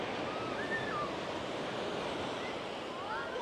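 Gentle waves wash continuously onto a small beach in a Tenerife bay, a soft steady surf with light wind, faint and without distinct breaks.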